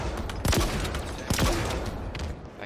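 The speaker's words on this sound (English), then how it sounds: "the rocket launchers are pretty damn good." Two heavy blasts from rocket launchers in Halo multiplayer boom about a second apart, each with a descending whoosh, set against steady background game noise.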